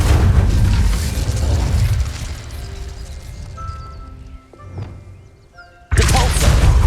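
Incendio fire spell in Hogwarts Legacy, a loud booming burst with a crashing roar that fades into quieter mechanical clinks, then another abrupt loud blast.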